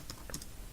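Several quick keystrokes on a computer keyboard as a password is entered into a software login form, a few light, close clicks in an uneven rhythm with no talking.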